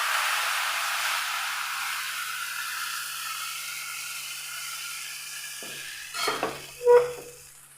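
Rice flour batter poured into a hot pan, a steady sizzle that fades gradually, then a few brief scraping and stirring sounds near the end, with no talking.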